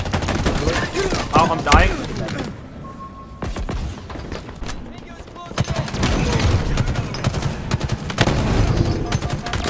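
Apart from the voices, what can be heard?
gunfire from an enemy bot in a video game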